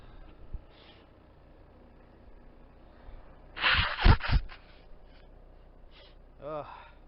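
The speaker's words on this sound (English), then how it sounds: "Morning sneezes or morning blows." Two sharp sneezes in quick succession burst out near the microphone in a quiet setting, followed by a brief breathy sound.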